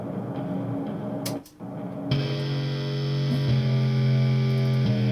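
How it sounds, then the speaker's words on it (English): Roland SH-101 synth bass sample run through an overdrive guitar rig with a doubler, a buzzing, distorted sustained tone with heavy harmonics that cuts in after a brief pause and drones on loudly, with no voices. "So I've got an SH101 sample here."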